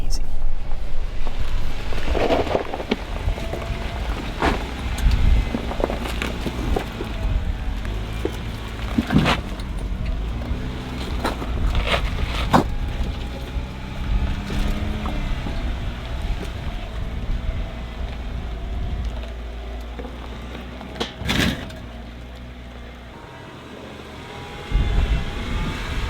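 A vehicle engine grinds slowly up a rough desert trail in first gear, a steady low drone under wind buffeting, with bumps and thuds from the rocky ground and someone talking at times.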